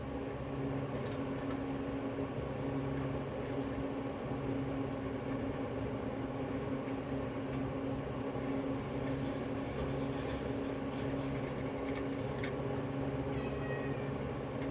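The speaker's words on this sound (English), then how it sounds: "Oh, hush, cat." A cat meows now and then in a room during a wooden box craft project, over a steady low hum like an appliance running nearby.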